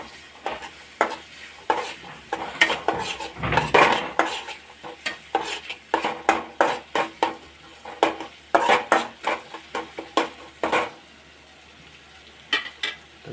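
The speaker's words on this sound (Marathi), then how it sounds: "तर जरा कांदा भाजू द्यायचा" Finely chopped onion frying in a pan for palak paneer, a constant hiss beneath dense, rapid clinks and scrapes of a spoon stirring against the pan, close and busy with brief pauses.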